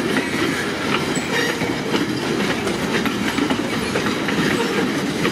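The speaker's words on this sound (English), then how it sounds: "This train looks like it's set to go all the way to Critz." A passing train gives a loud, close, steady rumble with rhythmic clickety-clack of wheels over rail joints throughout. The noise never pauses for the whole stretch.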